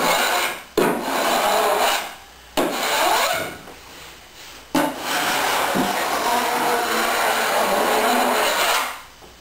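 Fairing compound is scraped and spread with a tool along the tape seams of a boat hull, giving three long, loud rasping strokes separated by short pauses, close up with no talking.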